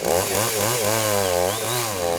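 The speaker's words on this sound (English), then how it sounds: "Chainsaw action." A chainsaw runs loud and close in the Borneo rainforest, its engine note rising and falling in quick surges as the throttle is worked.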